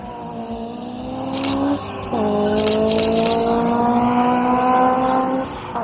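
A Fiat 500 car drives past with a buzzing, tonal engine drone. The pitch drops briefly, then picks up and holds steady before fading near the end.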